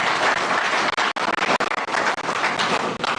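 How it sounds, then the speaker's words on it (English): A roomful of people at an election observer mission media briefing applauds, dense close clapping that comes in uneven bursts with brief gaps. "Another round of applause."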